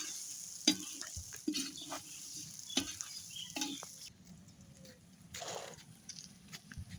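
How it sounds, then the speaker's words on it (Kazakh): Macaroni is poured into hot oil and stirred in a pan, giving a quiet sizzle with intermittent scraping and stirring clatters and a few brief splatters, close by and faint, with no talking. "Mana makaronimizni mayga quvurib olamiz."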